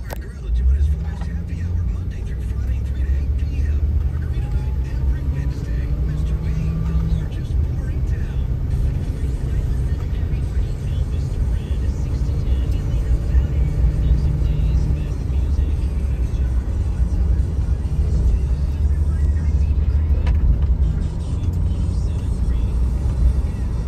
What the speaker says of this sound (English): now we're going to go ahead and take it on a quick test drive